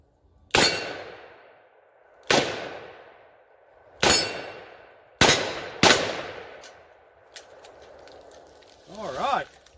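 A Smith & Wesson Model 69 .44 Magnum revolver with a 4 1/4 inch barrel fires five sharp, loud shots a second or so apart outdoors, each with a ringing decay, and a faint voice follows at the end.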